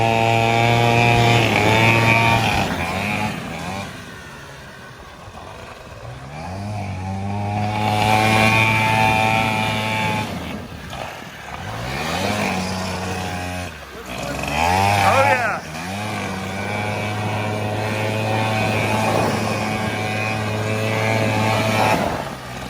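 Suzuki motorcycle revving hard while doing donuts, engine screaming up and down in repeated loud surges and sweeping pitch changes, close by, with voices heard underneath.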